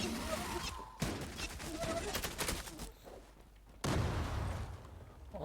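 Bursts of gunfire in the video game Zula's nightmare mode, rapid overlapping shots and a loud blast near the end, mixed with game noise and a voice talking over the action.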